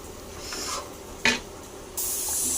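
Chicken curry with garam masala being stirred in a pot, a spoon scraping and clinking against the metal in short strokes, with a faint sizzle and one sharp knock midway.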